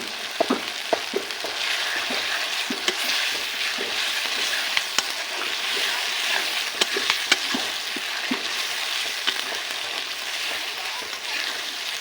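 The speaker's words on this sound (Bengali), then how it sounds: "দেখুন মশলা কষানো হয়ে গিয়েছে, মশলা থেকে তেল ছেড়ে দিয়েছে।" Spices for a mutton curry frying steadily in oil in a pan, a continuous close sizzle with occasional spoon clicks and scrapes while being stirred, no voices.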